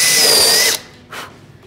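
A cordless power drill drives a screw into wooden trim in one loud, close, high whine lasting under a second, then a brief short second burst.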